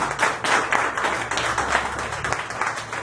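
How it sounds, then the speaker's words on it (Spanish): A church congregation claps for the Lord during a Spanish-language service, a dense, steady round of applause filling the room, with a few voices mixed in. "Si usted lo cree, denle un aplauso al Señor, hermano"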